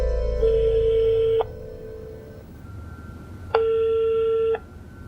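A telephone call rings out with two long electronic ringback tones about two seconds apart, clear and steady over a quiet low hum.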